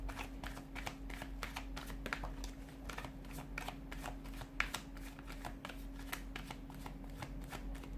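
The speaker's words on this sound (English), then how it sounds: "give the cards a shuffle" Tarot cards shuffled by hand, a rapid continuous patter of riffling and sliding cards over a low steady hum, close and quiet with no talking.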